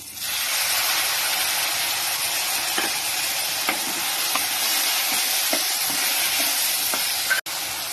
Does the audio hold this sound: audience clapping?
no